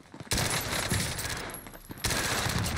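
A PPSh submachine gun in a shooter game rattling off two long continuous bursts, loud and close, with a brief pause between them and no talk.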